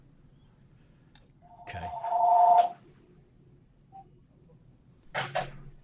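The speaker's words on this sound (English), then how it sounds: "I'm going to wait for somebody to answer the phone." During a committee hearing, a telephone rings in one clear burst, then a brief second ring follows a few seconds later; someone speaks a single short word.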